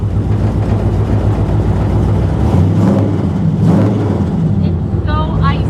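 A 1957 Chevy drives down an icy road, its engine droning steadily with a couple of swelling revs from inside the car, and a short whistling squeal near the end.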